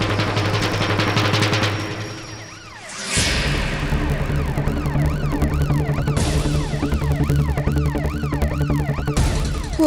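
An ambulance siren wails close and loud in a rising-and-falling cycle, broken briefly by a dip before resuming with a repeated whooping sweep over a low engine hum.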